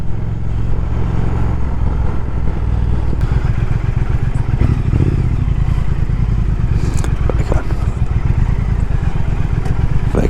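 2019 Triumph Speed Twin motorcycle engine pulling in sixth gear at around 3,000 RPM on UK roads, a close, steady low throb with wind rumble and occasional clatter.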